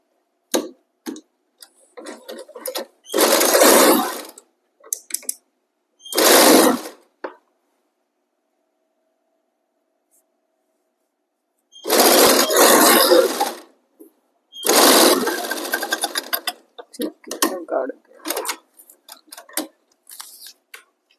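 A sewing machine runs in several short bursts while stitching the seams of a kachhera, with quiet pauses and small clicks and handling noises between the runs.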